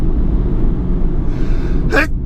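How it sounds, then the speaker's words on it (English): A man sneezes once, loud and close, a sharp burst near the end after a steady low background rumble. "I'm the kind of person who holds his sneezes in."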